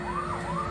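A police siren wails in rising and falling sweeps over a steady engine drone, short and fairly loud, from a car chase in the Chase H.Q. 2 arcade racing game.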